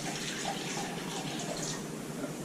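Tap water runs steadily as it rinses dreadlocks during a deep-clean wash, a continuous close splashing hiss with no talking.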